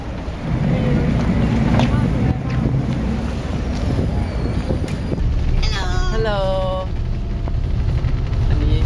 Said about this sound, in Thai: เรือลำนี้นะคะ ซึ่งเป็นเรือที่เรา ทั้งหมดจะนั่งกันไปนะคะ